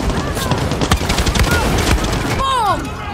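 A rocket launcher missile fired in Far Cry 6 bursts into a loud, rumbling explosion amid continuous gunfire and booming action, followed by sweeping whistling tones near the end.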